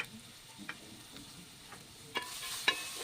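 Whole cumin seeds dropped into hot oil in a frying pan for pulao give a soft, steady sizzle with a few light ticks and clinks of stirring. A louder crackle rises near the end.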